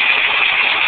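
A diesel engine roars loudly and steadily as its throttle is opened, a continuous close-up rumble with no break.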